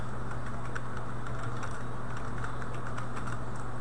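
Typing on a computer keyboard while entering a WordPress site title, rendered as a soft, continuous patter of quiet keystrokes over a steady low hum, with no speech.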